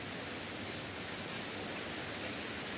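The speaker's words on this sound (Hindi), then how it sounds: "आज काफ़ी ज़्यादा बारिश हो गई है" Heavy morning rain in a village pours down with big drops in a dense, even hiss that stays steady and close throughout, with no voices.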